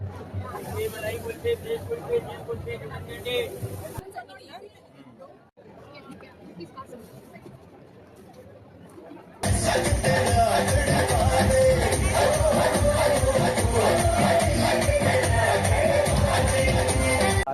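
A dense crowd at Global Village in Dubai fills the air with continuous chatter and babble, softer at first and then a loud, thick wall of noise with voices and background music.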